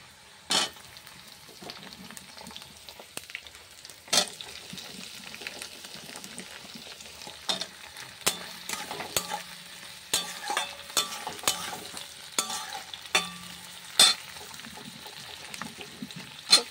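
Ginger, garlic and green chilli frying in a pan at home, with a steady soft sizzle under intermittent sharp scrapes and clacks of a spoon stirring and tapping the pan, up close and moderately loud.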